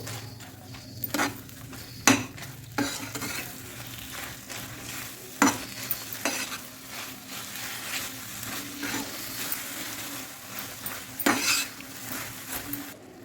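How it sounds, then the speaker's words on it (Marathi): A spoon scrapes and knocks against a pan as a thick mixture of jaggery and grated fresh coconut is stirred, with irregular clinks and a faint sizzle underneath. "मी गुळ आणि नारळ व्यवस्थित मिक्स करून घेतला आहे"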